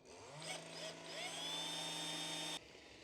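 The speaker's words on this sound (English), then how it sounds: "So I'm now going to drill another hole there where the 9th turn would be," A small power drill whines steadily as it bores a hole through a flowerpot antenna for a DIY ham radio build. The pitch rises slightly and then holds close and fairly loud before stopping abruptly.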